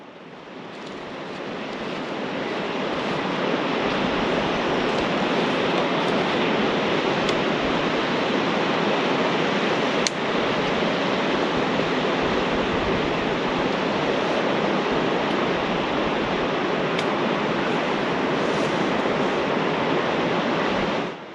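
A river rushes through a valley in a dense, even roar much like white noise, loud and steady throughout after a short rise at the start, with no voices.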